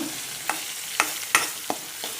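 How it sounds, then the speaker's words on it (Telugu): Slit green chillies fry in hot oil with a steady soft sizzle, broken by several sharp spatters and stirring scrapes spread across the moment, close and with no talking. "ఈ పచ్చిమిర్చి మాత్రం నూనెలో వేగనివ్వాలి."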